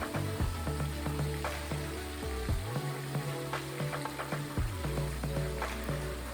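Ripe banana fritters sizzle steadily in hot oil in a pan, a continuous close crackle broken by occasional scraping and knocking as the pieces are turned.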